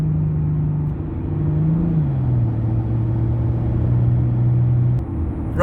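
A 301 bhp hybrid turbo diesel Mercedes CDI accelerating hard, with a deep engine drone rising and then holding a steady tone over constant road rumble from inside the cabin, without speech.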